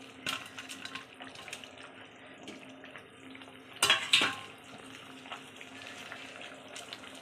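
Hilsa fish pieces go into a simmering radish curry with a brief clattering, sizzling burst midway, set against steady kitchen bubbling and faint utensil clinks.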